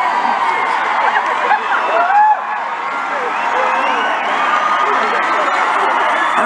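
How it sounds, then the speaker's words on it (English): A stadium crowd at a concert in Melbourne cheers and whoops, a broad continuous roar of many voices heard from inside the audience. "We love you, crowd!"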